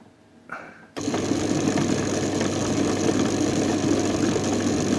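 A Mannesmann benchtop drill press switches on after a brief quiet moment with a soft bump, then runs at a steady whirring motor hum with a faint rattle.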